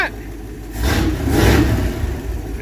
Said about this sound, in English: She's got a great exhaust note because she dumps out right there.